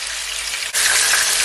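Chicken pieces frying in oil in a pot for Jamaican fricassee, a steady dense crackle that briefly dips and then swells louder as more pieces go in.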